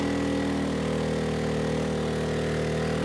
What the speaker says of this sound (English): Yeah, the engine's slowing down, so let's turn some of these off.